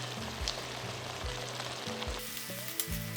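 A vegetable stir-fry sizzles in a pan as stir-fry sauce and pepper are mixed through, a constant soft frying hiss with light stirring under quiet background music.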